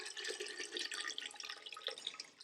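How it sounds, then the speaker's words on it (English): Water is poured into a container around a glass for a holiday DIY craft project, a faint, close, trickling pour with small dripping splashes and no speech. "I'm just going to pour water around it."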